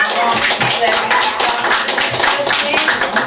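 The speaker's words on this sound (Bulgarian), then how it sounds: "Браво, аплодисменти!" Parents at a kindergarten meeting clap steadily in a close, dense burst of many hands lasting the whole stretch, with some voices mixed in.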